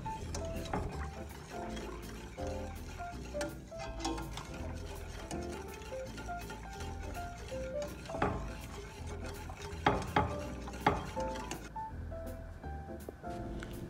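A spoon stirs yoghurt laban sauce thickened with cornstarch in a pot, scraping and clinking steadily and fairly quietly for several seconds.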